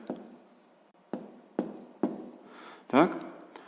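Pen strokes writing a fraction on paper during a sixth-grade math lesson, several short, close scratching bursts separated by pauses, ending in a longer scribble, with no speech.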